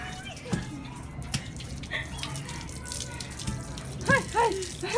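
Water gushes and splashes from a tap outdoors under open sky during a bath, a steady running flow with intermittent splashes, while voices call out excitedly over it.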